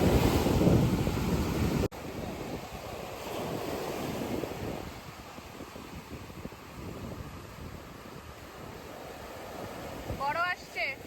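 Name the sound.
ocean waves and breeze at beach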